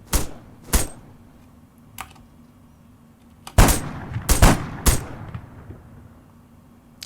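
Sniper team gunfire in the video game ARMA 3: loud, sharp gunshots cracking out singly, then a tight cluster of several shots in quick succession, with reverberant tails over a low rumbling background.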